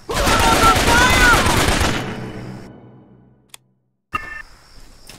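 Intense gunfire in the PC shooter Raven Squad, a dense loud barrage for about two seconds that fades into a decaying echo, then a couple of sharp isolated clicks and a short metallic burst near the end.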